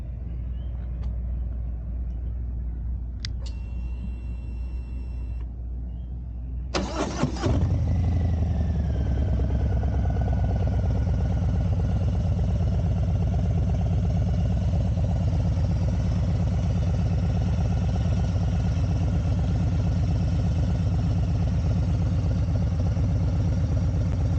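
A Harley-Davidson Softail M8 engine with a Bassani Ripper exhaust cranks and catches around seven seconds in, then settles into a loud, steady, rumbling idle close by after a quieter stretch of background noise.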